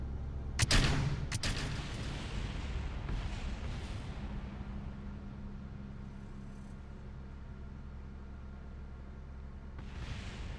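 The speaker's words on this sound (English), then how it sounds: "That's a lot of explosions." Explosions in Kerbal Space Program: a sharp, loud blast cluster near the start, followed by a long rumbling tail and smaller bursts fading out, with another muffled boom at the end.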